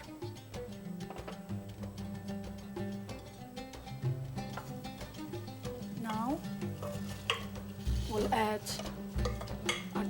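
Drained rice being stirred into melted butter in a pot, with a steady run of scraping and rustling spoon strokes over a gentle sizzle and some background tones.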